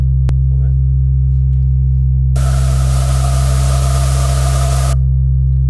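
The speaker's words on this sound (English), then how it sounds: "The machine uses only two sounds produced electrically." A Voder speech synthesizer gives a loud, steady electrically produced buzzing tone, joined midway by a hissing noise burst of a few seconds that represents breath, then the buzz continues alone.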